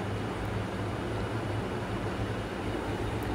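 A passenger express train runs from Kolkata toward Bolpur, heard from inside as a constant low rumble and rolling wheel noise, steady throughout with no talk.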